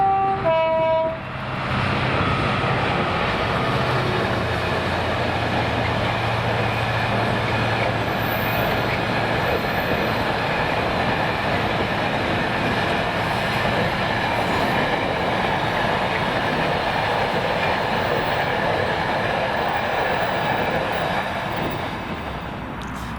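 Sunday freight train from Mossend to Daventry hauled by class 66 locomotive 66424, passing loud and close with a short horn blast at the start, then a steady heavy roar of wagons and rumbling wheels that lasts throughout.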